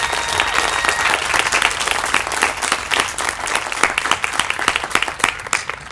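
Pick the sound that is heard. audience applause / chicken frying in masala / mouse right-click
audience applause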